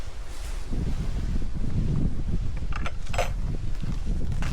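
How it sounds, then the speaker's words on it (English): Strong gusts buffet an outdoor microphone on a countryside walk near a festival caravan, producing a loud continuous low rumble with a few faint higher rattles. "very windy"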